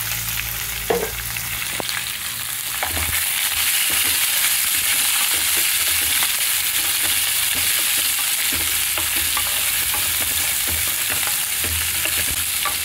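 Chopped onions and green chillies frying in oil together with prawns in a pan, a steady close sizzle with occasional stirring clatter and no voices.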